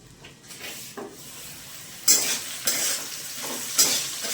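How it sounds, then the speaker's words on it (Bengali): Potatoes fry in a pan while being stirred, a soft sizzle broken by several louder scraping stirs of the spatula against the pan, close and fairly quiet, with no talking. "আলুগুলো ভাজা ভাজা হয়ে গেছে"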